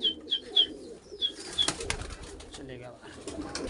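Wild jungle pigeons kept by a hobbyist give a string of short, bright calls close by, followed by softer rustling and shuffling.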